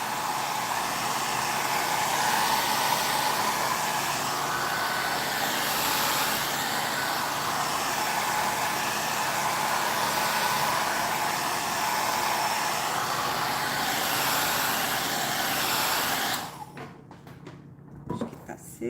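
Steady roar of a hair dryer or heat tool drying paint on a stencilled floral box, running loud and unbroken for most of the stretch, then cutting off near the end, leaving quieter room sound and faint handling.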